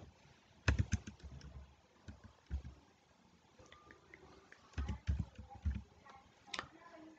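Keys clack on a computer keyboard while an online petition form to a district collector is filled in: irregular bursts of close, soft taps with pauses, under quiet speech.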